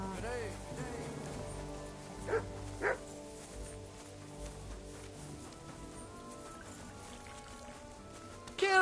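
Dog barking in the medieval video game Kingdom Come: Deliverance II, a couple of sharp barks in the middle over a background of ambient game music and town sounds, with someone talking around it.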